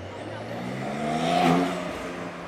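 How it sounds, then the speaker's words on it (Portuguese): A Porsche Turbo roars past on a busy coastal city street at night, engine note swelling as it nears, peaking briefly, then fading away, with no talk over it. "Esse é o turbo. Só pelo ronco do motor."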